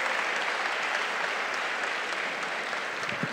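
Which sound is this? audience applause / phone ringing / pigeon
audience applause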